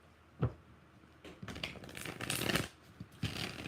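Tarot cards being shuffled by hand at close range, quiet riffling bursts with a sharp snap near the start and a longer flurry of shuffling in the middle, with no talking.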